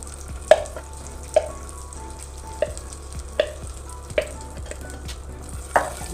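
Ghee sizzles steadily in a pan with a soft crackling fry, punctuated by about seven sharp, regular clinks of a spoon against the pan. No voices are heard.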